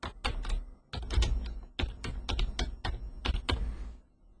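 Typing a name on a computer keyboard: bursts of quick, crisp key taps in uneven clusters, close and clear with no voices, pausing briefly between words.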